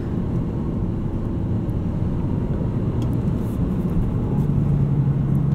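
Cabin engine drone from a 2019 Toyota Corolla XSE hatchback with a 6-speed manual, steady and close, with a slight shift in engine pitch late as it automatically rev-matches into third gear.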